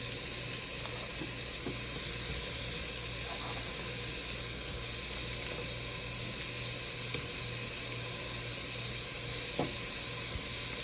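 Ham browning in butter in a pot gives off a continuous, dense sizzle at steady loudness throughout, with a few faint utensil taps.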